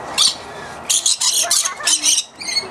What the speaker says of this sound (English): a bird's on my elbow